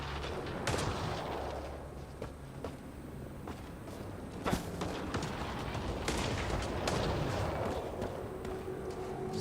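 Scattered gunshots and heavy booms echo through a cave in the video game Mass Effect, irregular sharp bursts over a rumbling background at moderate distance.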